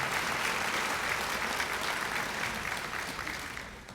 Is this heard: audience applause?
yes